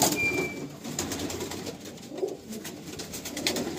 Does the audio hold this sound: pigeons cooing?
yes